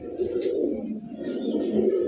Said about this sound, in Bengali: কবুতর দেখেন কোয়ালিটি দেখেন